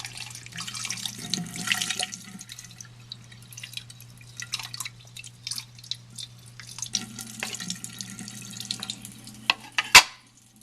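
Tap water trickles and drips while rinsing chemicals out of the grooves of a lab well plate, in uneven splashes and drops nearby, ending with one sharp clink.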